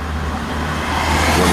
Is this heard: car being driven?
yes